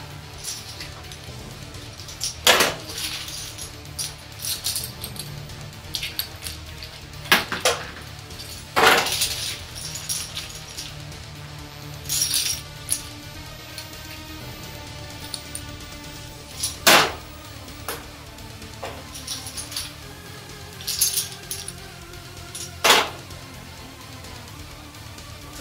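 Loose Commodore VIC-20 keyboard keys dropped into a bath, heard as scattered sharp plastic clicks and rattles at irregular intervals, with quiet gaps between the bursts.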